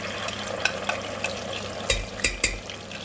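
Tomatoes frying in a pot for chorba, with a soft continuous sizzle under a few sharp clinks and scrapes from stirring, two heavier knocks coming close together near the end.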